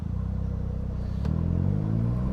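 A lowered car pulling away, its engine giving a steady low rumble close by that swells slightly as it begins to move, with no talking.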